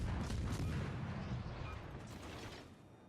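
Enemy naval artillery in World of Warships Legends fires on and hits the player's Kraken destroyer, a fairly faint, continuous broadband rumble of gunfire and impacts that slowly fades.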